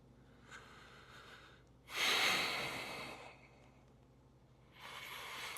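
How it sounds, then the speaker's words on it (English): Steady nasal breathing during a yoga forearm plank: a soft inhale, a louder and fuller exhale, then another breath starting, each one close and unhurried with no talking. "keep breathing through your nose nice and even"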